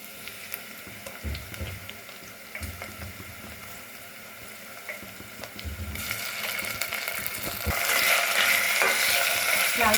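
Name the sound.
ginger garlic paste frying with onions in a pan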